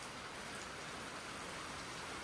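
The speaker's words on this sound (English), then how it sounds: "I call that a rain roar. It's a phenomenon where you can hear the rain going from distance." Rain heard from a distance during an evening thunderstorm makes a faint, steady hissing roar that holds evenly without distinct drops or thunder.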